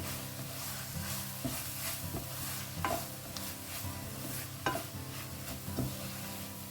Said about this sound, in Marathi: इसे 1-2 मिनट के लिए ना अच्छे से भून लेते हैं